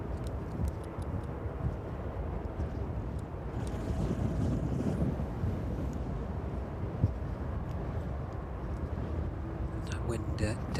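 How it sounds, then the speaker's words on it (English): A strong crosswind gusts across East Midlands Airport, buffeting the microphone with continuous rumbling wind noise that swells in the middle, while a voice talks intermittently over it. "That wind definitely picking up this evening. It's a very strong crosswind indeed."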